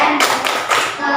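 In a classroom, children perform a rhythmic clapping chant, three quick, sharp bursts of hand claps in a short pattern, close and fairly loud.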